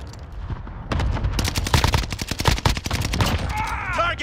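Rapid machine-gun bursts and gunshots in a multiplayer shooter game, loud and dense, firing in quick clusters with a few gaps, ending with a swooping electronic effect.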